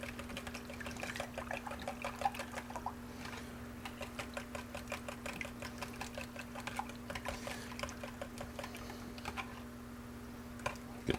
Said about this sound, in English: And then we're just going to get the whisk in there.